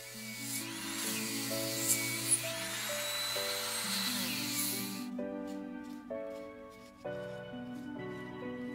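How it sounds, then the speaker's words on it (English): A Dremel rotary tool fitted with a grinding bit hollows a small channel for an aluminum rod, a steady high whine with shifting pitch that drops away near the midpoint, then returns in short bursts. "Using a grinding bit on my Dremel tool, I hollow out a small channel for the aluminum rod to go in."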